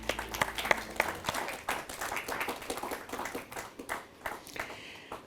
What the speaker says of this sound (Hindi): यहाँ सारे लोग आपको मुस्कुरा के तालियों के साथ विदा करेंगे